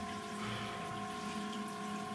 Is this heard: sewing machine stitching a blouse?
no